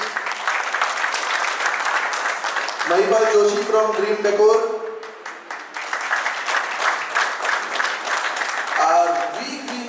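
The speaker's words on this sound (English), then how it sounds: "Let's give a big round of applause to our support partners" An event crowd gives sustained applause for support partners, the clapping running throughout while a man announces names over it through a microphone.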